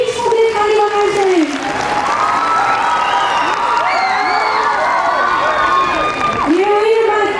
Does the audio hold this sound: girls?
yes